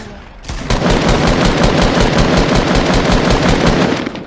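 Rapid automatic video game gunfire, a loud close burst of evenly spaced shots running continuously for several seconds before cutting off, with no talking.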